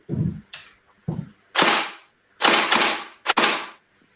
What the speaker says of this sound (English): that one pull on the trigger, that's just 3-round burst